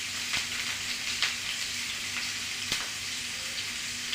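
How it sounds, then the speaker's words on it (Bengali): Chopped carrot and capsicum sizzle in hot oil with a steady crackling hiss, broken by a few sharp pops and stirring clicks, with no voices. "ক্যারট আর ক্যাপসিকামটা এগুলো দিয়ে দিচ্ছি।"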